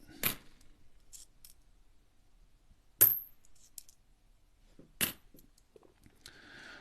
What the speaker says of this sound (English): Put those 1 cent coins aside.